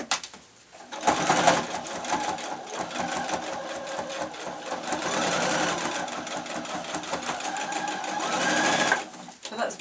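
A sewing machine runs a tacking stitch through layered lace, a close, steady mechanical whirring with short breaks near the start and end, and a voice speaking over parts of it.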